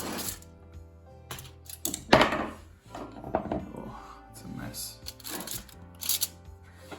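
A knife scoring the skin of a whole dorade royale fish, heard as short, irregular scraping and tapping cuts close by, mixed with kitchen clatter and spoken instruction.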